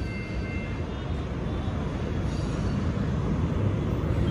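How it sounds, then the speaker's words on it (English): An Amtrak Capital Corridor SC44 Charger locomotive at Jack London Square, Oakland, rumbles steadily as its train diverts onto another track. It is a continuous low rolling roar at moderate distance, with no talk. "That's an SC44 SEMA Charger 2104. Diverting over to track number 2."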